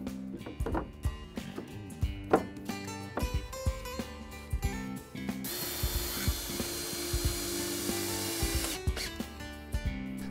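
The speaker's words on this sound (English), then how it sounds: "Use a jigsaw to cut out the scrap and fit the boards into place." A jigsaw cuts scrap from a southern pine board for a potting table, starting with short choppy bursts and knocks, then running in one sustained buzzing cut for a few seconds before stopping.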